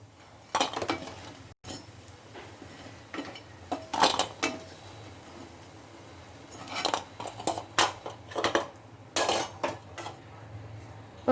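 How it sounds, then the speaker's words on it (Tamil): Metal kitchen utensils clink and scrape against a pan while oil is drained from fried idli pieces, with irregular bursts of clattering and quieter gaps between them, close and moderately loud. "இப்போ இதை ஆயில் ட்ரைன் பண்ணிவிட்டு எடுத்துடலாம்."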